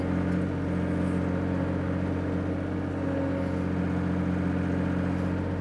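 An old skid steer fitted with a new Steffen grapple runs steadily while curling the grapple over, giving a constant, even engine and hydraulic hum with no talking.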